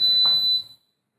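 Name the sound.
Tefal Express induction cooktop beeping when plugged in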